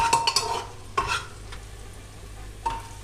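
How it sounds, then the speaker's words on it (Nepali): Onions stirred in a frying pan over medium flame for a Nepali mutton curry, a spoon scraping in a few sharp strokes over a steady low sizzle, close and fairly quiet. "वरिपरि राम्ररी सपक्क चलाउनु होला।"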